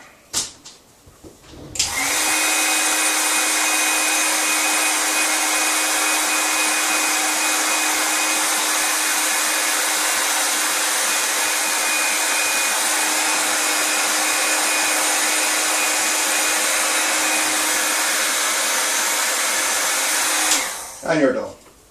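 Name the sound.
heat gun shrinking heat shrink over cable crimp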